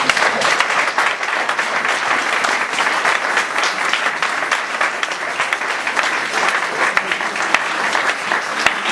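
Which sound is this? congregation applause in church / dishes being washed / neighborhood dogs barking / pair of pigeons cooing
congregation applause in church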